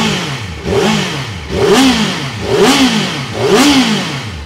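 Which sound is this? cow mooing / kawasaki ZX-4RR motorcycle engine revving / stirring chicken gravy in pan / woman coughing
kawasaki ZX-4RR motorcycle engine revving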